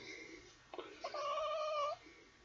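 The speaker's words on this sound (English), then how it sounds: "She is the nosiest cat in the world." A shy, nosy house cat lets out a single drawn-out meow, close and clear, rising then holding steady before trailing off, against a quiet room.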